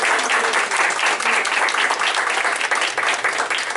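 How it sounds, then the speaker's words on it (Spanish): Steady, dense applause from a lecture audience at a law conference on arbitral awards, loud and continuous throughout with no talk over it. "Le vamos a dar un fuerte aplauso,"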